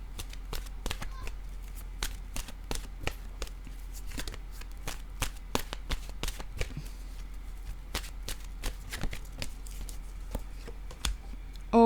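Oracle cards shuffled by hand before one is drawn, a steady run of soft riffling flicks and taps continuing throughout, close and fairly quiet over a low background hum.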